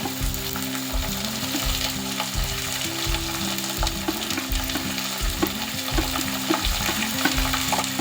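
Garlic, ginger and green chillies sauté in a pan of oil for garlic pickle, a steady close sizzle with rhythmic stirring scrapes running throughout, no voices.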